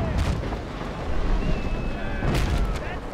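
Cannon fire from a warship's bow chasers in the naval combat game Naval Action: heavy, rumbling booms with two strong bursts, near and loud, over continuous battle noise.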